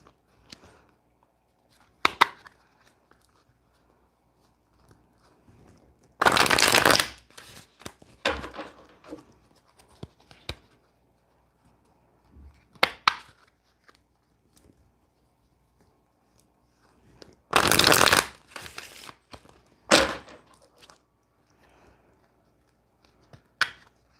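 A Rider-Waite tarot deck being shuffled: two loud riffling bursts about ten seconds apart, with scattered light card taps and snaps between them and no talking.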